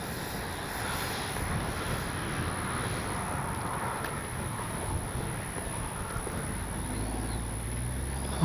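A 64mm-fan RC jet model of a MiG-29 flying, heard as a steady broadband rushing whine with wind noise on the microphone, holding fairly even for several seconds before a lower rumble rises near the end.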